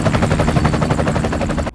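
Helicopter rotor chopping loudly and steadily throughout, a dense rhythmic thumping at a grand entrance landing scene.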